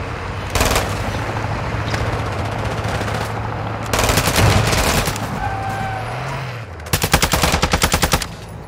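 Bursts of rapid automatic gunfire in Call of Duty Warzone DMZ, several loud rattling volleys, the last one close and sustained, over a low vehicle engine hum.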